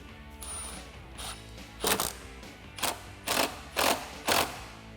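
A hose clamp on a Jeep Wrangler JK cold air intake coupler is tightened with an 8mm socket, giving several quick, close ratcheting bursts, the last few spaced about half a second apart.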